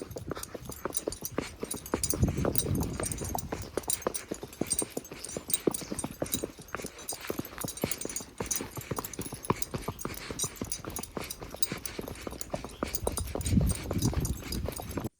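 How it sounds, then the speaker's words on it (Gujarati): A mare brought over on a rural Gujarati outing clip-clops steadily, hooves beating in a dense, continuous rhythm close by, with brief louder stretches and faint background noise. "આપણે ઋતુભાઈ કૃપાલભાઈની ઘોડી લઈને આવી ગયા છે"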